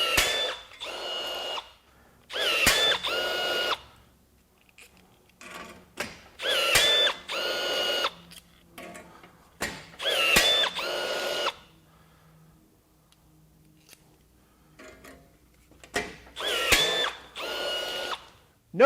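A Milwaukee M18 Fuel 2660 cordless rivet gun sets a steel rivet in five loud, separate mechanical whirring bursts, each about a second long, with quiet pauses between them.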